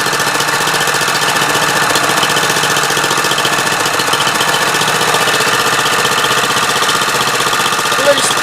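Mikasa MVH-206GH hydraulic plate tamper engine idling with a steady, loud mechanical drone and rattling vibration, continuous throughout with no voices.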